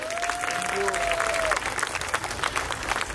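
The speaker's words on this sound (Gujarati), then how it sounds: "બ્રિજેશભાઈ માટે જોરદાર તાળીઓ." A crowd breaks into enthusiastic applause for Brijeshbhai at a Nach Baliye dance event in London, dense clapping under a brief sustained tone and scattered cheering voices.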